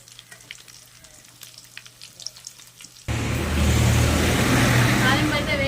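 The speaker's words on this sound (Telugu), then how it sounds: "తాలింపు అయితే వేగిపోయిందండి" A tempering of dried red chillies, curry leaves and a pinch of turmeric drops into hot oil, bursting into a loud, steady sizzle that follows a few seconds of quieter kitchen noise.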